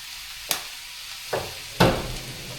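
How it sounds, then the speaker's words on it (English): Leftover food stirred in a stainless steel pan, spiced with chili and paprika: three separate scraping clacks of the utensil against the metal over a soft, steady sizzle, with no talking. "And now I mix it."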